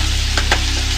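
Tomatoes sautéing in a pan for tomato and roasted gram chutney, giving a steady close sizzle with a couple of brief stirring scrapes partway through.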